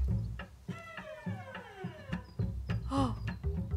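Cat meowing in a Studio Ghibli-inspired video game, several short meows over soft game sounds, with one clearer rising call near the end.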